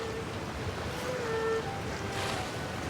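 Rushing water from waterfalls in the Genshin Impact world, a continuous broad wash of spray and roar with a faint airy wind texture, steady and fairly loud with no voices.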